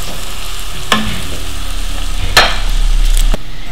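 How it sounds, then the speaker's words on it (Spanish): Leek and onion sautéing in olive oil, a soft continuous sizzle with a few sharp utensil knocks and scrapes against the pan, close by and without speech. "hemos echado el puerro y la cebolla, y lo empezamos a rehogar hasta que quede un poquito así, como caramelizado"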